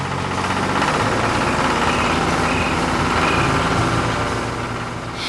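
A green Fendt tractor engine runs steadily on a farm while hauling heavy giant pumpkins in an animation, a loud, continuous low rumbling drone with a slight knocking texture and no break.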